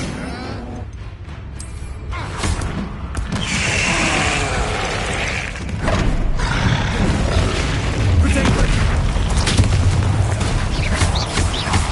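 A Bombarda spell explosion in the Hogwarts Legacy video game: dense, loud blasts and rattling mechanical crunches fill the scene continuously, with a voice shouting over the din.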